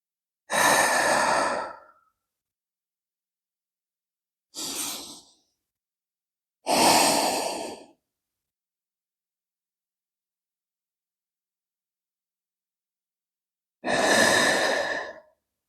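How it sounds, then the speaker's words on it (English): Four slow, deep breaths during a yoga flow, each a close, airy exhale or sigh lasting about a second. They are spaced several seconds apart with silence between and no talking. "Taking some nice deep breaths here."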